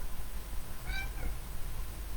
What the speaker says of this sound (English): If you hear some meow in the background, that's my cat.